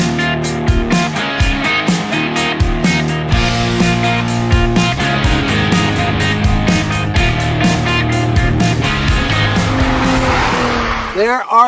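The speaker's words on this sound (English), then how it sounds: "this vehicle, which is the Acura NSX GT3 Evo" An Acura NSX GT3 Evo race car driven hard, with a loud engine rising and dropping through gear changes, squealing tires near the end and a voice speaking over it.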